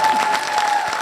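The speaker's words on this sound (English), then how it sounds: "Give them a round of applause" An audience applauding at a Bollywood event with Tiger Shroff, dense loud clapping from a crowd close by, sustained throughout with a faint hint of cheering.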